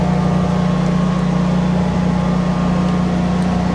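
A steady, loud low-pitched generator hum during a power outage, with a constant drone and broadband rumble, running continuously without change and no voices.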